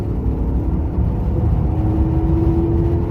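A 1998 car pulls away from a stop after a speed sensor replacement, its engine whirring steadily and rising slightly in pitch as it accelerates, heard from inside without talk.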